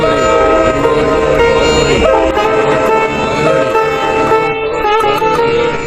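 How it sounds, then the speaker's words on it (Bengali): A loud train horn sounds in sustained, layered tones over the rolling rumble of a moving train, used as a dramatic sound effect in a crematorium ghost story. "হরিধ্বনির শব্দ, ট্রেনের হর্নের শব্দ।"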